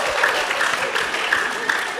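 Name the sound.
audience applause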